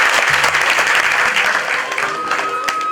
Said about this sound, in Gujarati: એકવાર જોરદાર તાળી એમના માટે.